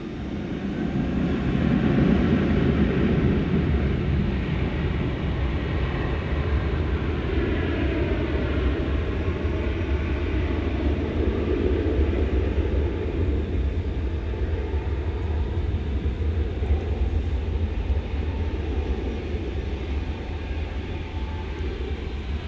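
An American airliner takes off from runway 18 left at DFW, a steady, loud jet roar and low rumble sustained throughout without voices.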